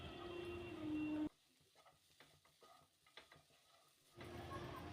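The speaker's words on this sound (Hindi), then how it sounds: "तो अब डालेंगे इसमें थोड़ा सा गरम मसाला, और इसे भी 1 मिनट के लिए भून लेंगे।" Potato samosa filling roasting with garam masala in a pan, a faint sizzle that cuts out into near silence with a few soft stirring taps, then returns.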